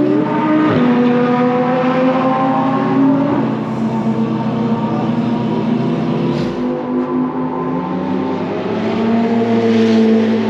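A Mercedes AMG race car with a V8 turbo drives at speed, its engine droning loud and steady throughout with shifting pitch and a brief jolt, no voices over it.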